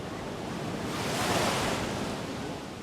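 Waves wash onto a white-sand beach in Calabria as a broad, steady surf that swells and eases over a few seconds, mixed with wind noise and no voices.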